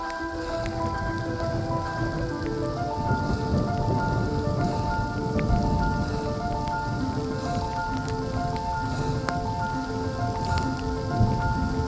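Rain pattering steadily on a mountain hiking trail in a canyon, a dense, even patter close by, with a faint tonal hum running beneath it and no talking.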